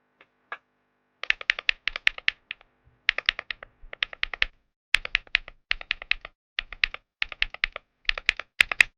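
Typing on a Monka A75 Pro mechanical keyboard, bursts of quick, crisp clacky keystrokes in irregular runs with short pauses, close and clear with no talking.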